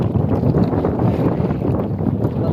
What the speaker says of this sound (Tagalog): Malakas na masyado ang hangin. Pati ang alon.